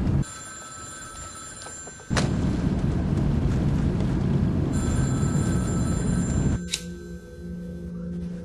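A loud, close telephone bell rings in a comedy film scene, a harsh sustained ring that cuts in abruptly, holds steadily for several seconds, then drops away as a quieter tone continues.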